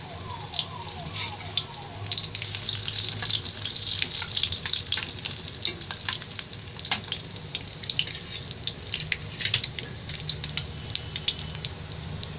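A bay leaf drops into hot oil in a kadhai with onions, giving a close, continuous crackling sizzle with small pops throughout and a low hum beneath it.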